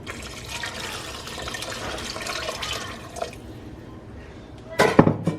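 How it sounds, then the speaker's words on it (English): Water splashes and trickles into a pan for several seconds, followed by a louder clatter of cookware near the end. "I'm gonna go ahead and add a few cups of water to my pan."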